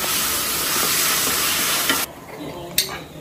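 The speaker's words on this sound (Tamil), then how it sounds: "நம்ம தக்காளி வெங்காயம் வதக்கிட்டோம். இது வதங்கட்டும்." Tomato and onion sautéing in a pan, a steady loud sizzle and hiss with faint stirring scrapes, cutting sharply quieter partway through with a brief clatter afterward.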